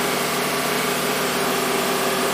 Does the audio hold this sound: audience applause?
no